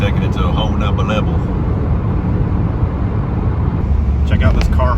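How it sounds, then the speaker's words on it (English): A car hauler truck loaded with brand new Mustangs on the road: loud, constant broadband road and engine roar heard from a moving vehicle, with voices murmuring beneath. "Check out this car hauler"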